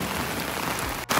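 Heavy rain falls outdoors in a dense, constant hiss of drops hitting surfaces, with a brief dropout near the end before the downpour resumes.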